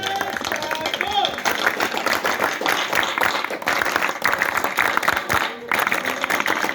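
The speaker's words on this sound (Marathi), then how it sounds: "एकदा टाळ्या वाजवा." Audience at a Marathi poetry gathering breaks into sustained applause and clapping, dense and continuous across the hall, with a voice speaking over it.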